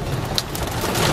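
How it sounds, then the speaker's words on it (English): Heavy rain pours steadily on a flooded road and nearby surfaces, a dense, constant hiss of close downpour with no voices and no pauses. "it is raining like crazy"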